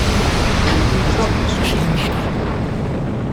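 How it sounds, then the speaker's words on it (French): A torpedo explosion in the submarine game Silent Hunter 5, a dense, sustained roar of broadband rumble that fills the whole clip at steady loudness, like a heavy blast settling into a long wash, with no talk over it. "Waouh, ça fait une magnifique explosion,"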